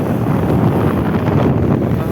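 Strong wind roars across the microphone in a steady, heavy rumble with no voices.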